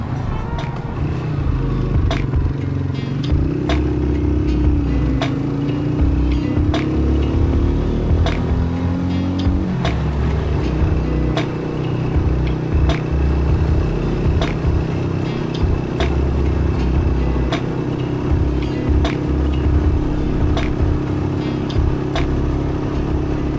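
Motorcycles and cars pass now and then on a quiet early-morning road through savanna hills, their engine drone rising and falling under a steady near engine rumble from a ridden motorcycle, with wind noise throughout.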